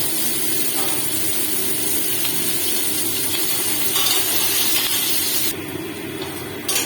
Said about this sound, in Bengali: এবার এই সর্ষের তেলের মধ্যে আমি কুচনো পেঁয়াজগুলো দিয়ে লাল করে ভেজে নেব।